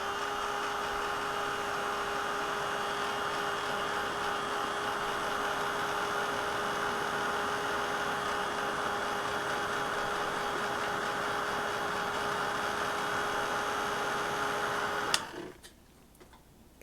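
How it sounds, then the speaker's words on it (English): Heat gun drying excess multi-medium on a mixed-media craft piece, a steady loud whirring blow with a constant hum that runs for about fifteen seconds before cutting off abruptly. "I'm just going to hit it quickly with the heat gun to dry some of that excess multi-medium."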